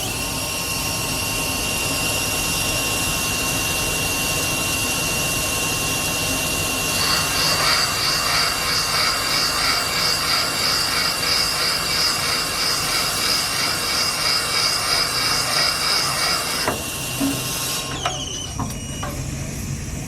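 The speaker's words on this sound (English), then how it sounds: "we've got a 70 degree single blade here, and we're going to be cutting that bottom" A 70 degree single-blade cutter machines the bottom lip of an engine part for a rebuilt 2009 6.2 LS Tahoe engine, a steady high whirring, chattering cut riding over constant loud shop machinery noise before it stops.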